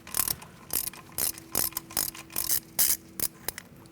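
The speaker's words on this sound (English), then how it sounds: "Using a 9mm socket and an extension, I'm going to take out this bolt for this speed sensor." A ratchet turning a 9mm socket on an extension ticks in short, even bursts of clicking strokes, removing the front ABS wheel speed sensor bolt on a 2000-2006 Mini Cooper.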